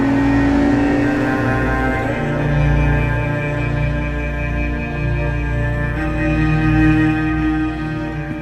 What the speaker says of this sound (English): you're going to hear the exhaust note of that engine, the V12 engine on song